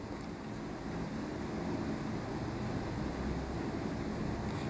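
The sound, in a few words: beef nihari pot boiling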